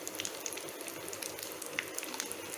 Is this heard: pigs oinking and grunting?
no